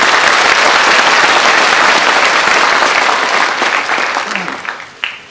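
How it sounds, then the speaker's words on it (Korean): Loud, sustained applause from an audience at a public lecture in Gangneung, honoring soldiers of the Korean armed forces, steady for several seconds and then tapering off to scattered claps near the end. "우리 국군 장병들을 위해서 한번 힘찬 박수 부탁드립니다."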